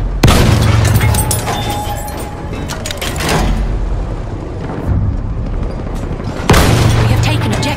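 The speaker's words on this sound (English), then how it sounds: "They have an anti-tank gun" Heavy booming explosions from anti-tank gun fire in the video game Battlefield 1, several loud blasts with rumbling tails, two sharp onsets near the start and end of a dense battle din.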